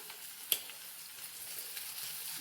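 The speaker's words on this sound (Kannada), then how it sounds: "ಈರುಳ್ಳಿ ಫ್ರೈ ಆಗ್ತಾ ಬಂದು ಬ್ರೌನ್ ಆಗ್ತಾ ಬಂದಿದೆ." Onions frying and browning in a pan with rock salt, a faint, steady sizzle heard close, with one brief clink of a utensil and no talk.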